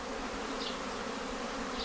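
Honeybees buzz at a hive entrance in the early morning, a steady, dense hum of many insects that fills the whole stretch without a break.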